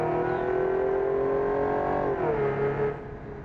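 A V12 car engine in the Automation driving game holds a smooth, steady high-pitched drone, dips as it shifts, then climbs again, loud and alone without speech.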